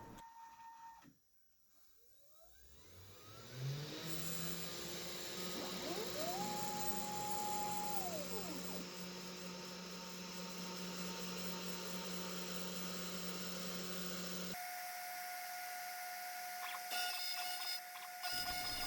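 CNC router spindle milling counterbores and through holes in a double-sided routing job: a sustained high machine whine with shifting tones as the cutter moves, steady and close, a brief quiet start before it spins up.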